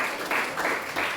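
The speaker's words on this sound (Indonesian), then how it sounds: "Kasih tepuk tangan buat kelompok 4" Applause for group 4 at a classroom tax-agent training presentation, a dense wash of clapping in uneven swells, fairly close and without voices.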